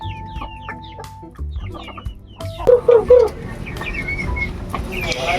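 Chickens cluck close by, with a run of short clucks followed by a few louder, drawn-out squawks, then softer clucking carrying on.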